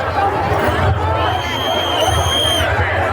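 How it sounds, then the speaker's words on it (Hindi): A large crowd of women gathered in line for a Kalash Yatra procession in Bhusawal, Maharashtra, a dense murmur of chatter and hubbub all around, with a nearby voice speaking over it and a brief high whistle-like tone partway through. "यहाँ पर चारों तरफ भीड़ देख सकते हैं"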